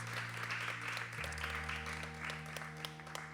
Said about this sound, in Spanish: le damos un aplauso fuerte de bienvenida